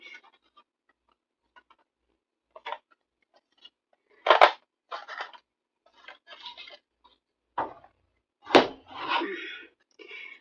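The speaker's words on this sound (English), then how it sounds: "if you have a hole punch, this is a 3-inch hole punch" A 3-inch hole punch pressing through paper gives a handful of sharp, close crunching snaps spread unevenly across the span, each followed by soft rustling and handling noise, with quiet gaps between.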